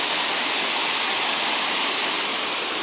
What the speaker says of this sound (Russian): Находится каскад из трех водопадов.